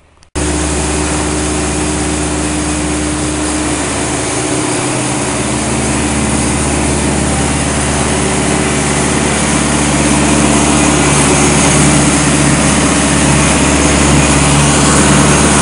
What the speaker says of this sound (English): Bit noisy. It's a self-powered saw.